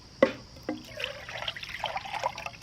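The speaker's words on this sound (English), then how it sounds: "I'm just going to go ahead and put all of our water in." Water poured from a container into a camp cooking pot for a freeze-dried lasagna meal, a steady trickling pour after a couple of sharp clanks, close and moderately loud with no talk.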